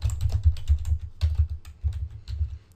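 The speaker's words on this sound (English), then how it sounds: "You can just type in the note as is and type yourself a reminder" Rapid, uneven clicking of keys on a computer keyboard, close and steady across several seconds as a note is typed on a Windows 7 desktop, with no voice over it.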